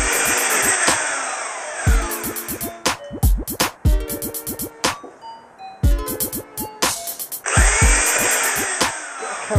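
A power drill boring into wood for a subwoofer build, with close, loud whirring runs that start and stop several times, broken by short clattering and knocking sounds between passes.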